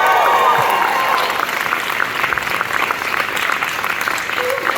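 A festival audience at the Eerie Horror Fest claps loudly after a horror feature screening, with dense applause at the start that gradually thins while a few voices murmur among the crowd.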